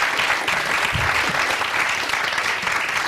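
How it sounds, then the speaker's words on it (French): Studio audience applauding on a television talk show, a dense, steady wash of clapping that fills the whole moment without pause. "Applaudissements."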